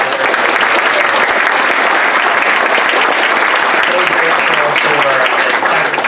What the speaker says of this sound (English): I would invite y'all to help me give a round of applause for our